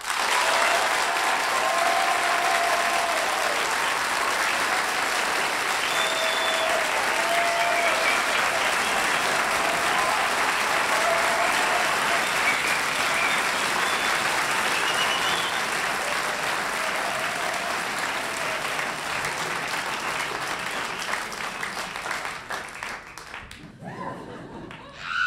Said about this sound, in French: vous allez devoir manifester votre préférence par le silence ou des applaudissements généreux